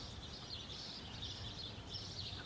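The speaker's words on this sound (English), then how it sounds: "I'm listening to the birds chirp right now" Faint, steady high chirping from birds in the distance over a constant low background hum, continuous throughout with no talking.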